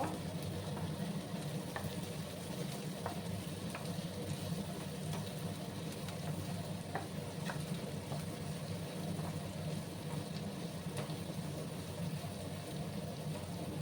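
Green chillies, garlic and ginger fry in a pan with a steady, faint, continuous sizzle and a few light ticks and crackles, close but quiet throughout.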